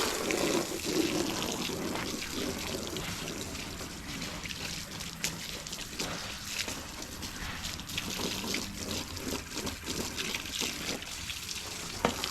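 Scuba diving gear, including a simple 45-pound donut wing, is rinsed with water in a steady, moderate splash and trickle that runs continuously throughout.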